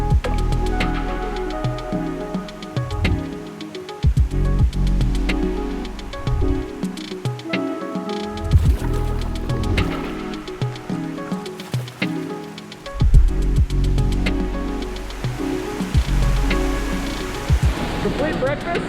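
Myra Falls rushes as a steady, loud broadband roar of falling water with dense splashing, heard up close throughout while occasional scuffs and movement sound over it.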